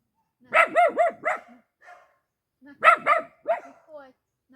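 A young puppy from an abandoned house gives two bursts of quick, high yappy barks while it eats, with a short pause between the bursts.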